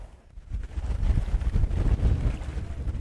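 Strong wind at sea during an island fishing trip rumbles and buffets the microphone in a steady low roar, with a faint hiss of water underneath and no voices.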